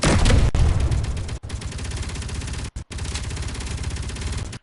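Rapid bursts of gunfire with cannon-like shooting in the underground survival video game Helios Underground Survival, loud and continuous with brief pauses between volleys.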